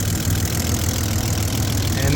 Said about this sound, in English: It's running, it's driving.